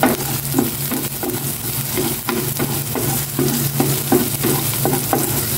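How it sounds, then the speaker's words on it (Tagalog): Garlic and chili being sautéed in oil in a frying pan, a steady close sizzle with repeated stirring scrapes in an irregular rhythm, no talking. "Gigisa ko lang siya sa bawang. Ayan, sili."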